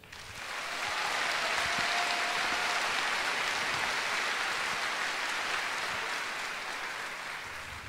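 Sustained audience applause fills the room at a college fashion show, a dense wash of clapping that swells in the first second, holds steady and loud, then tapers slightly toward the end, with no talking over it.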